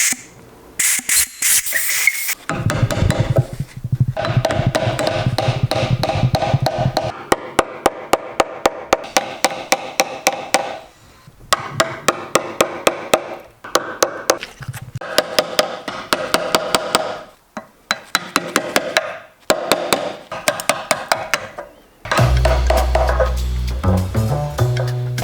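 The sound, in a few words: chiseling out holes in thick wood slab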